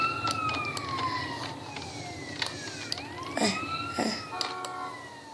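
Police sirens wail in GTA San Andreas as cops chase the player, their rising and falling tones overlapping steadily across the whole stretch beneath game noise and a few sharp knocks.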